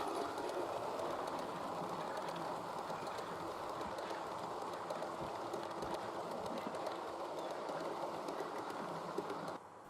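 A 13-car long-distance express train rumbles steadily north along the rails, climbing a gentle grade, a continuous loud roar with faint clicking over about ten seconds, passing close by without any voices.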